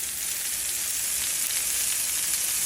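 Meatballs made with lean protein fry over medium heat in a pan holding very little fat, a steady bright sizzle running evenly and close throughout with no talking.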